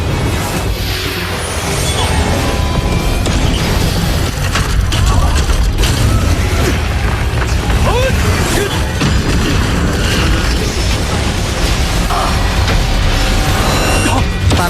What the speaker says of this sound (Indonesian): Gempuran tembakan meriam tanpa henti tidak lantas mampu menyentuhnya.